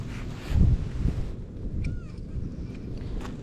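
Stormy wind buffets the microphone on a fishing boat, with heavy low rumbling gusts early on that ease into a steadier background hiss.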